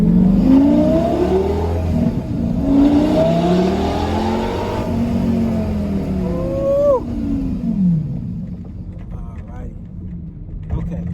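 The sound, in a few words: 2008 Lamborghini Gallardo Superleggera engine revving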